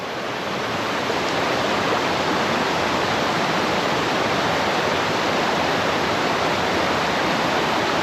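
A small waterfall on a hiking trail gives a steady, loud rush of falling water that fills the whole clip without a break, with no voices over it.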